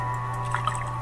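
An empty watering can in the Stardew Valley video game gives a brief soft liquid drip or plip over a steady background game hum.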